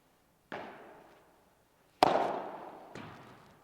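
A padel ball is struck three times with a Royal Padel Whip racket. Each hit is a sharp, hollow pop that rings and fades, and the second is loudest, with no talk between them.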